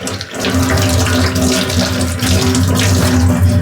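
Tap water runs steadily into a sink as pieces of mutton are rinsed under it, a loud continuous splashing rush with no speech.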